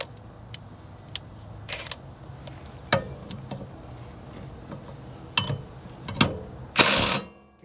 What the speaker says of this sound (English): I'm gonna go and tighten it with the impact gun now.